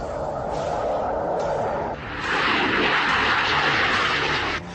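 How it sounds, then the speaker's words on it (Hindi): Sukhoi and MiG-29 fighter jets roar over Ladakh, a loud, steady engine rumble that swells into a broader, brighter roar midway through as the aircraft passes close overhead. "लद्दाख के आसमान में सुखोई और MiG-29 जैसे विमानों की गड़गड़ाहट को भी महसूस किया"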